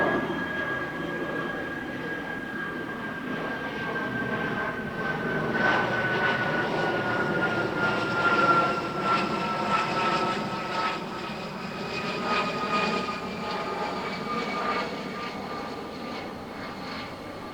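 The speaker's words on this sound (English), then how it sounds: "there goes a private jet" Private jet flying over near a private airport, heard outdoors on a walk as a broad engine roar with a whining tone that swells in the middle and slowly fades, moderately distant.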